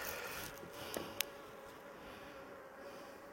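Honeybees buzz steadily around an open hive as a caged queen is released, a dense close hum with a couple of brief sharper clicks and no talking.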